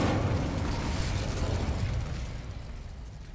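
A fire spell cast in the Hogwarts Legacy video game gives a loud, broad whooshing burst with crackle, which fades steadily over a few seconds.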